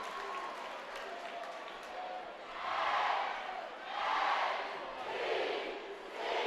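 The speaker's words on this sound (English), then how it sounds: "And now the entire crowd for Washington is on their feet, being led in the chant." A Washington high school basketball crowd at a sectional game stands and chants in rhythmic, swelling waves of massed voices and clapping, heard from a distance and fairly faint.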